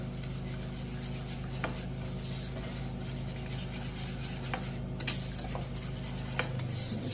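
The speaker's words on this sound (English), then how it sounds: "I'm going to throw that cocoa in. And we are just going to mix until it's smooth" Cocoa is stirred into a melted chocolate batter for Guinness chocolate cupcakes, a continuous close scraping and rubbing of utensil against bowl with a few light clinks along the way.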